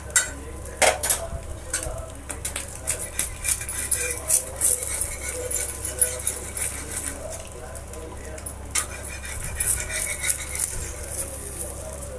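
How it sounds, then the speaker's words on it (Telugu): An omelette frying in a pan, with steady soft sizzling, clinks of a utensil against the pan and stirring noises while a person talks over it. "తర్వాత ఆమ్లెట్ అయితే వేస్తున్నాను అన్నమాట"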